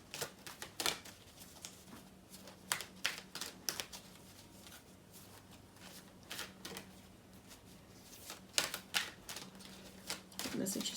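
Tarot cards riffled and shuffled in quick bursts, crisp snapping flurries separated by short pauses, close by, with a faint low hum underneath.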